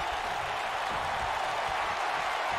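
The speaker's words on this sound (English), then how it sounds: "Everyone's cheering." A wrestling-event crowd cheers and applauds in a steady, loud roar that holds without a break from start to finish.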